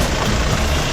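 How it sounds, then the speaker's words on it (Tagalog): The diesel engine of a Hyundai Starex GRX automatic van runs with a steady, dense, rumbling idle heard close up in the engine bay, with no voices over it. "Ayan, engine bay Diesel engine po yan"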